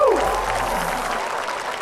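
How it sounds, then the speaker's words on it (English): Audience at a youth dance event applauding, sustained crowd clapping under a brief voice at the start, steady and fairly close. "round of applause."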